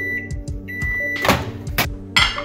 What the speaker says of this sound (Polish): No, mikrofalówka.